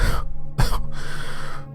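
A man coughs desperately, close and sharp, in a few rough bursts with a harsh throat-clearing quality and a short gasp-like break between them.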